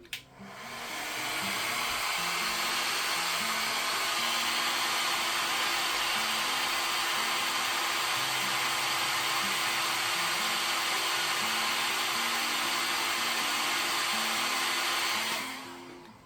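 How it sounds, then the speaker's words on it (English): A hair dryer blows steadily and loudly for about fifteen seconds onto spinning acrylic paint, a constant broadband whoosh with a low motor hum, starting and stopping abruptly. "I'm going to spin it with the hairdryer on now."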